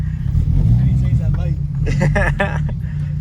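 A Honda Civic Si pulls away on a freshly repaired clutch, its low engine rumble running steadily under a man's loud, close voice.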